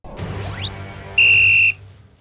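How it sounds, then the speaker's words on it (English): A toy-like whistle blown once to summon a horse: a single loud, steady high-pitched tone lasting about half a second, preceded by a short rising squeal over a low background hum. "This whistle will call my, mighty horse."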